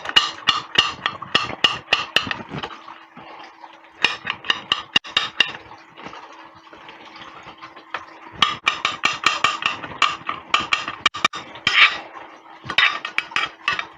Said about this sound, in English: Mince it really tiny.